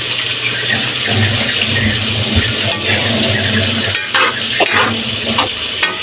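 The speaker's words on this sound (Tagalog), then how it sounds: "lalagyan natin siya ng tubig" Water is poured into a pan of sautéed mixed vegetables next to fried pork belly. It sizzles and bubbles loudly up close while a utensil scrapes and stirs, clinking now and then.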